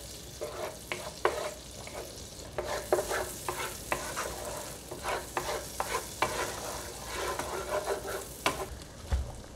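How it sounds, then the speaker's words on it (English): Butter and garlic cook in a pan on medium-low heat with a soft, steady sizzle, broken by repeated scraping and clattering strokes of a utensil stirring close by. "we're just going to keep cooking this until the butter's fully melted and the garlic is kind of mixed in for a minute"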